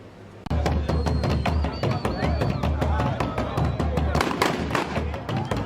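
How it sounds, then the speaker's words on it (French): Ceremonial cannon shots greeting guests of honour at an inauguration in Lualaba: a rapid series of sharp booming reports over a steady low rumble, loud and dense, with crowd noise underneath. "C'est par les coups de canon, comme la tradition l'exige, à l'arrivée des invités de marque"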